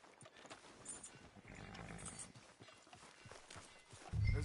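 Horse hooves clip-clopping at a walk in Red Dead Redemption II, faint, irregular thuds with some low rumble, followed by a louder burst at the end.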